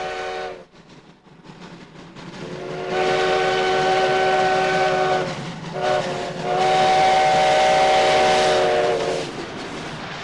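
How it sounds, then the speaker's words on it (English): Hill City 1880 steam train in the Black Hills of South Dakota, its chime-like whistle sounding in two long, loud blasts over the chugging and rumble of the running locomotive. "The Hill City 1880 train is a living symbol of the great American West."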